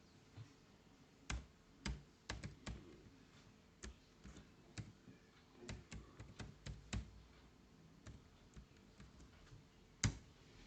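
Keys clatter on a computer keyboard in irregular bursts of crisp, close clicks with short pauses between them, one sharper tap standing out near the end, with no voice over the typing.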